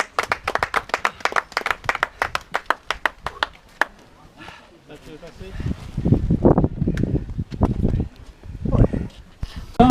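Crowd clapping for Valentin, winner of an afternoon horse race at Flers Cerisy, starting as sharp separate claps for several seconds before a commentator's voice takes over.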